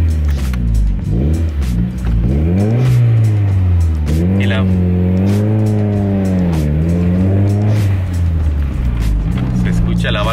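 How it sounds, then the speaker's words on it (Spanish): A car fitted with a downpipe that may be cracked accelerates and revs through rising and falling gear pulls, with a short hiss from the relief valve partway through, heard from inside the cabin while someone talks over it. "se escucha la válvula de alivio"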